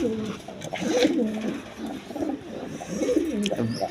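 Sirazi Lahori pigeons, a pair sitting on two eggs, coo in soft, repeated throaty phrases close by, with faint background noise and no talk.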